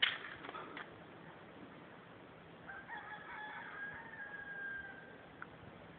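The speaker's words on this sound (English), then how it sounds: "You can hear the roosters." Faint, distant rooster crowing drifts in over quiet outdoor ambience on a steep mountainside, with a thin drawn-out call partway through.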